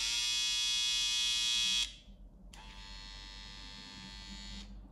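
A small electric hair trimmer, a slimline GTX compared against a Babyliss Pro, gives a steady high-pitched buzz, switches off for about half a second, then runs again at a slightly lower level, with no talk over it.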